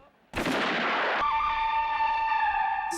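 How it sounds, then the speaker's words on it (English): A loud, booming cannon blast erupts after a brief quiet, followed by a sustained ringing, tonal roar that lingers, in a dramatic scene from the 1966 film The Good, the Bad and the Ugly. "Sounds like cannon fire."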